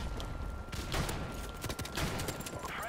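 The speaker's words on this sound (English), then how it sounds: "Okay, Nate, I'm digging the shotgun, man." Shotgun blasts in Call of Duty Modern Warfare Remastered, a few sharp shots amid dense game noise and scattered gunfire, fairly loud and busy.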